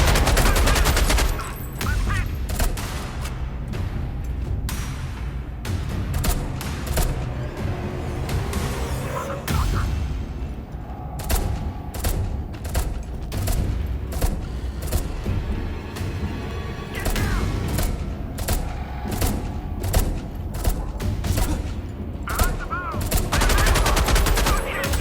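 Gunfire comes through a wall in the video game Beneath as repeated loud bursts of rapid shots in clusters with short gaps, close and harsh over game ambience.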